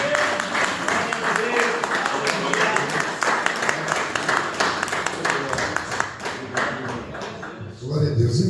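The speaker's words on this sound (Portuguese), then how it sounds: "E as palmas louvam ao Senhor Jesus." Church congregation clapping in praise of Jesus during a deliverance campaign service, dense sustained rhythmic applause with scattered taps and thuds, mixed with voices throughout.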